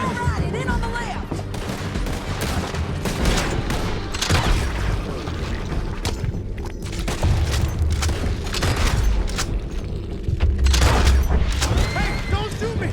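Gunfire fills a Red Dead Redemption 2 canyon chase as a dense, continuous barrage of booming shots and rapid volleys, loud and close, while a voice shouts over the shooting.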